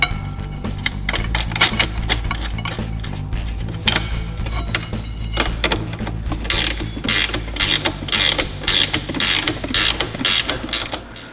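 A ratchet wrench turns during a Silber turbo install on a 2018 Ski Doo 850 snowmobile, clicking loud and close in rapid bursts that quicken and sharpen toward the end, over a low steady hum.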